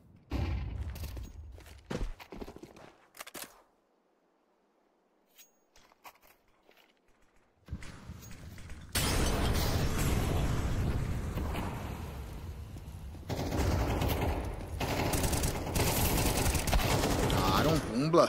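Bursts of rapid gunfire and clatter in a Counter-Strike match on the Anubis map, with a quiet lull before dense, continuous shooting fills the second half.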